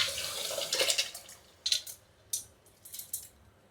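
Soaked basmati rice poured into a pot for prawn biryani, a hissing wet rush followed by several short splashy pours and patters, close up with no talking.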